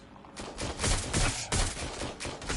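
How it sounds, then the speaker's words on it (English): Rapid gunfire crackles through a street chase in Watch Dogs: Legion, loud and dense bursts rolling one into the next with no pause for the whole stretch. "Was that a gunshot?"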